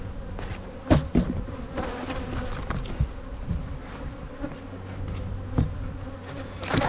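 Honeybees buzz steadily around an open hive being graded before almond pollination, a dense close hum with individual bees darting near and away, plus a few soft knocks and clunks of hive handling.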